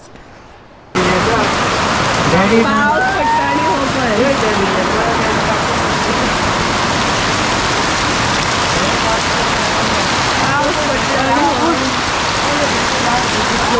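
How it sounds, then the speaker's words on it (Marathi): Steady, heavy rain pours down after a brief quiet opening, with a voice talking over the downpour. "पावस पडटा"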